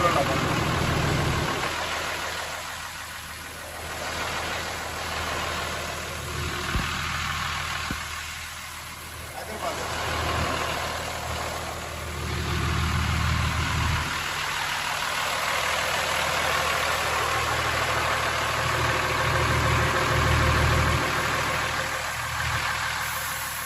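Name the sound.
Toyota HJ61 turbo diesel engine idling after overhaul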